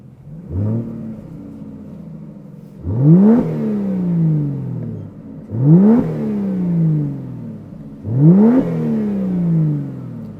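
2025 Aston Martin Vanquish V12 with the exhaust button on is blipped four times, each rev rising sharply into a bassy howl, then falling away before the next, close and loud with no talk.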